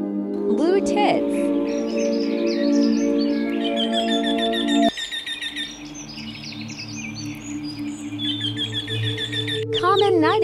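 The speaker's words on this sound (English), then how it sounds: "Blue tits." Blue tits sing in quick, high, bright chirps and twittering phrases, close and fairly loud, over a steady low tonal background that continues throughout.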